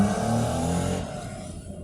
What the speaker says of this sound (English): That was a nice Porsche, huh? That was old school Porsche right there.